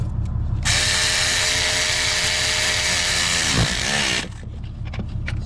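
A power tool on a socket runs a bolt on the lower intake of a 2004-2008 Ford F-150 with the 4.2L engine, a loud continuous whirring buzz for about four seconds that then cuts off.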